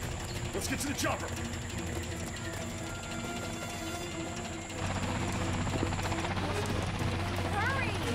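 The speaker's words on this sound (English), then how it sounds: "I'm going to get us a helicopter." A helicopter's steady mechanical whine and thrumming rotor drone, fairly close, growing heavier and deeper partway through.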